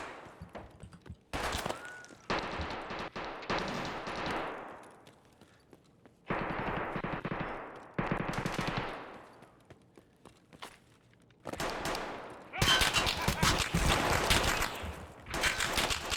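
Loud bursts of gunfire from a video game shooter, mostly rapid strings of shots in several separate volleys with short gaps between them, the last burst the densest and loudest.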